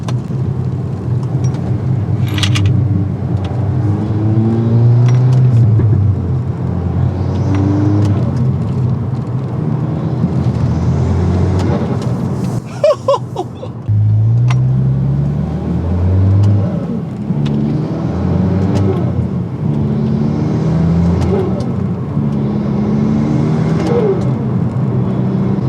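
Volkswagen MK8 Golf R with a new intake, turbo whoosh and induction roar as the engine revs repeatedly, rising and falling in loud close sweeps with a brief drop near the middle.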